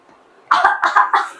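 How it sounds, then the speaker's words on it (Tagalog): A person coughs on request, three or four short, close, loud coughs in quick succession after a brief quiet start. "Ubo nga, ubo."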